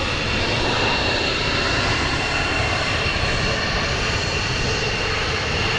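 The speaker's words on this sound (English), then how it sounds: "F-15's taking the active again." F-15 fighter jet engine roaring steadily at Portland International Airport as the jet takes the active runway, a loud, continuous broadband blast heard from outdoors without any speech.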